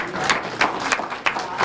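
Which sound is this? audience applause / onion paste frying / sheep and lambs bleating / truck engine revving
audience applause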